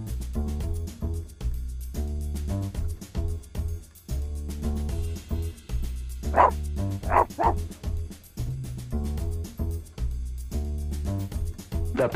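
Puppy barking in a video game, a run of short, close yips and barks in quick bursts, with game music playing underneath.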